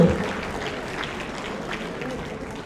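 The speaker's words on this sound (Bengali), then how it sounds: "এগেইন একটা জোরে করতালি আবারও" Applause from an audience at a school board award ceremony in an auditorium, a burst of many hands clapping that is loudest at the start and continues at a steady, moderate level.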